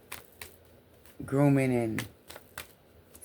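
Playing cards riffled and shuffled in quick dry clicking bursts at close range, sitting among casual talk with a louder voiced stretch in the middle.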